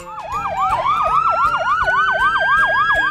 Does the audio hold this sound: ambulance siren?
yes